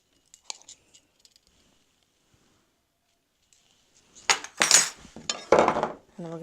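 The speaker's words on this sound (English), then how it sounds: "And we're going to stir this together." A spoon stirs fresh hand-milled flour and salt in a bowl, with a few faint clicks early on, then a short burst of close clinks and scrapes after a long quiet stretch.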